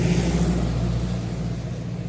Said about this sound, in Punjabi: ਇੱਧਰ ਜਾ ਰਿਹਾ ਬਾਈਕਰ